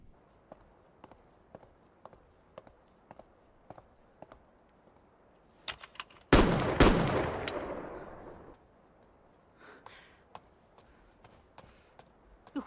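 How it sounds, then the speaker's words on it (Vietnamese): A single loud gunshot goes off inside a house with a sharp blast and a decaying echo, among faint footsteps and small knocks before and after. "Đang ở trong nhà nổ súng gì vậy?"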